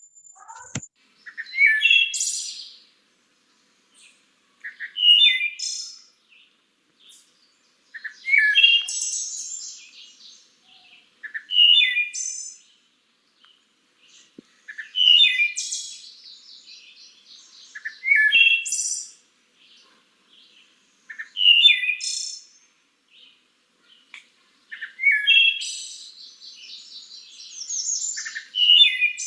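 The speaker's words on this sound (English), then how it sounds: "Has anyone here been lucky enough to hear a thrush call?" A bird sings clear, whistled phrases repeated roughly every three seconds, bright and fairly close against an otherwise quiet background.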